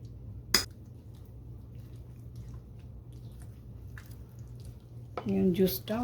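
Butter chicken marinade with lemon juice being mixed in a bowl, with a single clink early on, then a mostly quiet stretch before a brief burst of wet squishing and stirring at the end.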